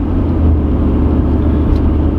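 A car with an L98 tuned port injection engine drives along with a loud, steady low rumble from the engine and road, up close and without any talking.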